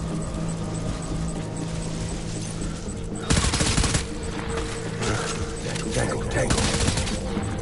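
Video game gunfire bursts out as dense automatic fire in short volleys, loudest around the middle, mixed with a background hum and a brief spoken radio call.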